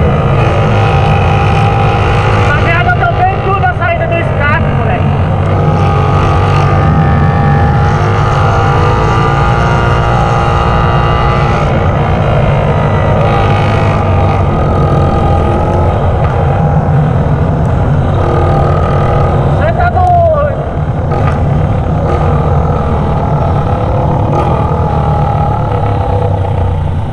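Car engine roaring through a straight pipe with the exhaust silencer removed, loud and continuous with revving surges and popping crackles throughout, no talk.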